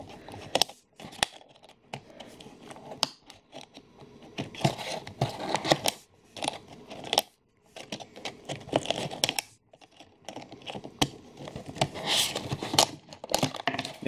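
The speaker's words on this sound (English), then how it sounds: "No, these scissors aren't the best," Scissors snip and crinkle through plastic and cardboard packaging of a Star Wars Vintage Collection Krrsantan action figure, a close series of irregular cuts, rustles and tearing with short pauses in between.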